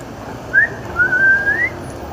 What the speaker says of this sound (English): These two guys are whistling as they walk by me